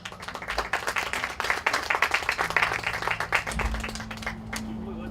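Audience at a round-table on the Catholic Church in Peru gives a welcoming round of clapping, individual claps distinct and rhythmic, swelling then thinning out over about five seconds, with a low hum and faint murmur.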